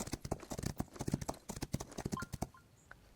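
Hooves clip-clop in a fast galloping rhythm for a horse in the mobile racing game Rival Stars Horse Racing, steady and fairly close, then dropping off near the end.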